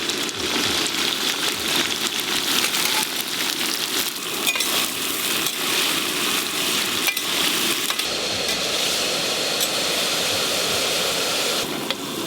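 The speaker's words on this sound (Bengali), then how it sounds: "এই যে প্রথমে ফুলকপিগুলো ভেজে নেব। ফুলকপির সাথে সাথে কেটে রাখা বিনসও দিয়ে দেব।" Cauliflower florets and chopped beans fry in ghee in a pan, a loud, steady crackling sizzle running unbroken from start to finish with no voices.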